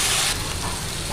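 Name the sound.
potatoes frying in a pan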